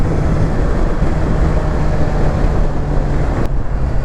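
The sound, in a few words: riding a Honda CBR 650 R motorcycle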